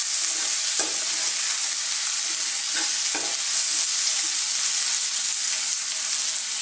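Onion and tomato sautéing in a pan, stirred: a steady, loud hiss of frying throughout, punctuated by a few sharp spatula taps and scrapes against the pan.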